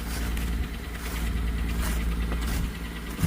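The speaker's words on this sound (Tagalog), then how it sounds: "Naka-start na yan, parang ma-warm up yung makina" A car engine idles steadily to warm up on a snowy winter day in Canada, a low continuous rumble close by with faint rattles and no talk.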